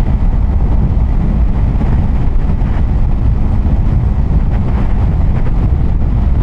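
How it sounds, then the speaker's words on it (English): Strong wind buffets and roars across the microphone while riding a motorcycle, loud and continuous, with low rumbling gusts and nothing else audible. "Very windy today."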